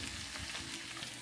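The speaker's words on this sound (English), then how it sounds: "We're gonna add our steak in." Strips of pepper steak frying in a pan: a brief burst of continuous, fairly faint sizzling, with no voices.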